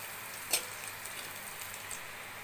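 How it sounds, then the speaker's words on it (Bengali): Garlic with a pinch of salt frying in oil in a pan for cooking kulekhara greens, giving a faint, steady low sizzle with one small sharp crackle near the start. "রসুনটা ভাজা হয়ে গেছে"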